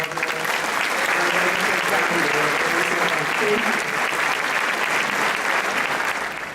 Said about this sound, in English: Another round of applause for Nelda